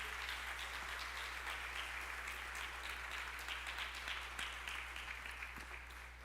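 A church congregation at an evening communion service claps together in steady, dense applause that sounds somewhat distant and low in level, with a constant low hum beneath it and no talking.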